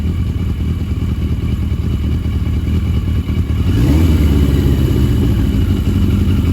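A barn-find 1982 Yamaha Maxim XJ750 motorcycle engine runs steadily close by, its rough idle rising into a fuller, louder revving drone partway through, with no talk over it.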